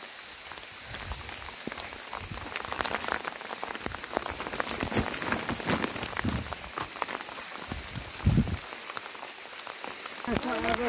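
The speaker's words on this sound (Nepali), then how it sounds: "पानी पर्यो" Steady rain patters on farm fields and plastic sheeting, a dense continuous hiss with scattered drops, with a few louder thumps and rustles near the end.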